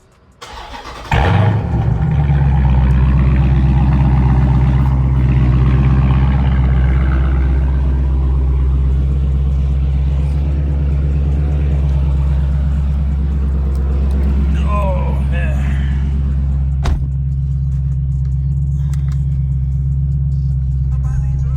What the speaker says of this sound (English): let's get a semi-cold start so we can hear the sound difference